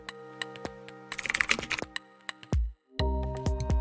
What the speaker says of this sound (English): Instead, I typed one command.